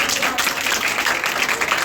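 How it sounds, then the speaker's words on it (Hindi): At a school farewell function, the audience greets the chief guest with loud, sustained applause, a dense, continuous crackle of many hands clapping close by, with some crowd noise mixed in. "जोरदार तालियों से स्वागत कीजिए।"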